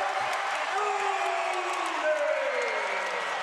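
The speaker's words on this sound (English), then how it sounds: "Crowd loves it." A basketball crowd at an MTSU versus Western Kentucky game cheers after a three-pointer, a steady, dense roar that holds for the whole stretch with a commentator talking over it.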